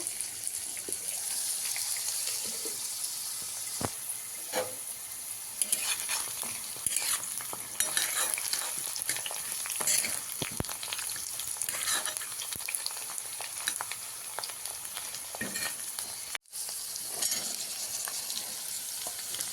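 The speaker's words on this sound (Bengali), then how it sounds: "ঢেকে ঢেকে আলুগুলোকে এইভাবে ফ্রাই করতে থাকবো" Potatoes fry in a covered pan with a steady, close sizzle and crackle that runs almost unbroken, with a brief dropout near the end and no talking.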